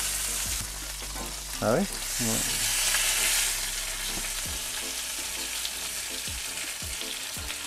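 Duck breast sears on a hot plancha with a steady, loud sizzle and crackle, broken by a few scraping clatters of a utensil, while someone speaks briefly over it.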